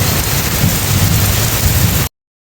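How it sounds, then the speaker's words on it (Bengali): Heavy rain pours steadily, a loud, dense, close wash of drops that stops abruptly after about two seconds. "বৃষ্টি হচ্ছে, তো দেখতেই পাচ্ছ গাইস।"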